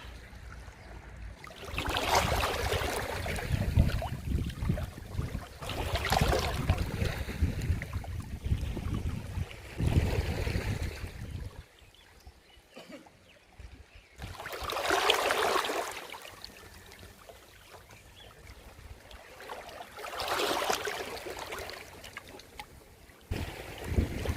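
Ocean waves surge and wash onto the shore of Ulleungdo island at sunset in slow, repeating swells, each building then fading, with a continuous outdoor rumble between them.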